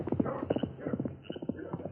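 Horse hooves clip-clopping in a steady, quick rhythm as an outlaw rides off on a stolen horse in an old-time radio drama, the hoofbeats fairly close and continuous with no voices over them.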